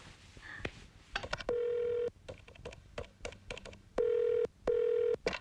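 Buttons click on a phone keypad, punctuated by three long steady dialing beeps, close and clear.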